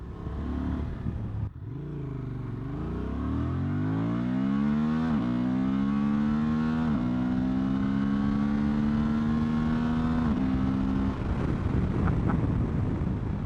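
Honda Transalp 750 adventure motorcycle engine under way, revving up through rising harmonic tones with gear changes, steady and close, with wind buffeting throughout and no talk.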